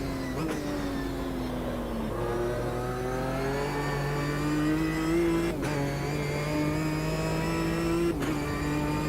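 A V6 race car engine in Automobilista 2 at the Bathurst mountain circuit, loud steady revving that climbs through the gears, with sharp shift cracks about every two to three seconds, heard alone.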